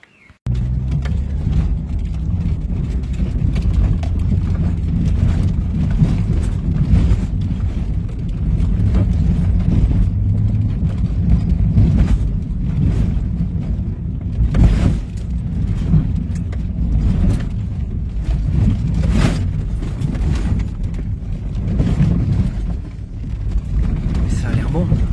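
A Jeep Grand Cherokee WJ drives along a road, its engine and tyres giving a continuous low rumble with wind buffeting the microphone, and a voice speaks now and then over the drone.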